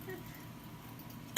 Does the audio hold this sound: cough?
yes